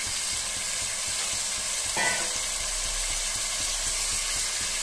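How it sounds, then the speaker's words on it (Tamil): Pieces of country chicken fry in hot oil for biryani, giving a steady, close, continuous sizzle with a brief stirring scrape midway and no talking. "சிக்கன் நல்லா எண்ணெயிலே ஃப்ரை பண்ணுங்க."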